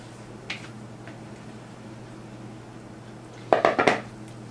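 A cast iron skillet of cornbread goes into a hot oven: a light clink early, then a cluster of loud metallic clanks and scrapes near the end over a quiet, steady kitchen hum.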